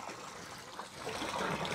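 Water runs steadily from a hose at a marina during boat maintenance, a continuous close hiss and trickle with no pauses.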